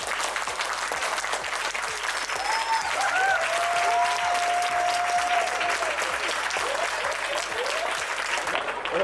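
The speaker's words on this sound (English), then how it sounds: "clap it up for Andrew Jones" A standing audience at a school event claps and cheers for Andrew Jones, a loud, continuous roar of applause over a steady low thumping beat, with scattered shouts and whistles rising through it.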